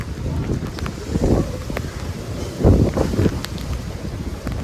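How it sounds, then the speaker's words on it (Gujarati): Gusty cold wind at night as rain begins with thunder, buffeting close to the microphone, a steady low roar that swells in two stronger gusts. "આહા ઠંડો ઠંડો પવન"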